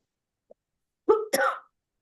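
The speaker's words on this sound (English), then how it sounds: "I seem to have a bout of cough" Two sharp coughs in quick succession from a lecturer, close and fairly loud, after a brief faint click in otherwise silent surroundings.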